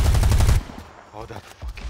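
Rapid automatic gunfire in Predator: Hunting Grounds, a fast loud burst of shots in the first half-second, then quieter game sounds.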